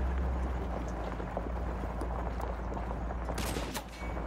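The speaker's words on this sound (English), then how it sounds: "We're taking sniper fire from multiple directions." Scattered gunfire from the Call of Duty Modern Warfare 2 campaign crackles faintly over a steady low rumble, with a sharper burst of shots near the end.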